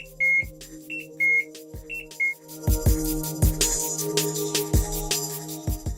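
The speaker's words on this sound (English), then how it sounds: "If the lock is broken, an alarm will trip," A bike lock prototype's alarm goes off: short repeated electronic beeps give way to a loud, continuous siren with rapid rhythmic pulses, close and piercing.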